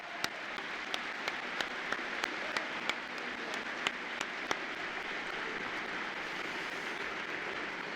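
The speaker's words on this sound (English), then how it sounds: "I think that IE deserves a great round of applause" A graduation crowd gives a sustained round of applause, a broad, steady rush of clapping from a large distant audience, with a few sharp individual claps standing out near the start.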